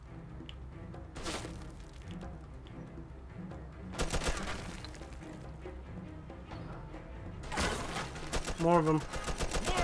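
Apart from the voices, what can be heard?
gunfire in Mafia 2 video game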